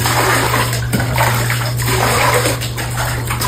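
Water pours steadily into a bucket for storage, a continuous rushing fill with a low hum underneath and no talk.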